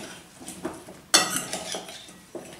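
Red pumpkin stirred with salt and spice in a dish: close, scraping clatter of utensil against dish in several uneven strokes, with one sharper clink near the middle.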